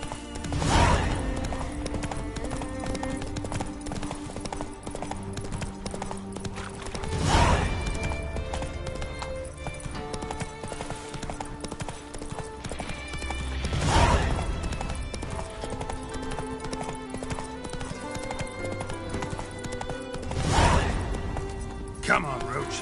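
Hooves of the horse Roach sound in The Witcher 3 in Skellige, as a steady clip-clop gait under continuous game music, with occasional heavier thumps every several seconds and someone talking at times.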